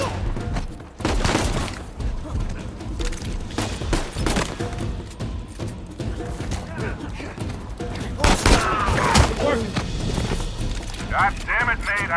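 Gunfire in the Uncharted 4 video game, dense bursts and rapid shots crackling loudly and continuously, with characters talking over the firefight.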